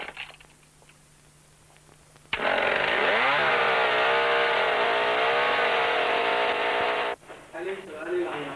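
A power saw roars at full throttle, loud and close, its engine note climbing as it starts and then holding steady for about five seconds before cutting off abruptly; quiet voices and rustling are heard before and after.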